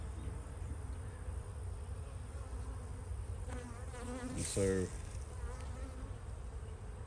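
Honey bees hum steadily around a hive in a green apiary, a low, faint, continuous drone. A single bee buzzes close for a moment, and a voice speaks briefly near the end.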